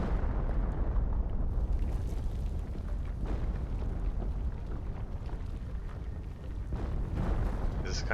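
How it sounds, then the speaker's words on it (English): A large explosion in the video game The Planet Crafter, heard as a sustained, loud, low rumbling roar that fills the whole stretch. It dips briefly near the end and then swells again. "Is that explosion going to expand outward, and is this an outrun the fireball moment?"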